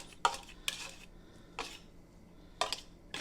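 Softened shortening is stirred into chicken dressing in a bowl, a handful of sharp utensil scrapes and clinks against the dish spaced irregularly, close and fairly quiet.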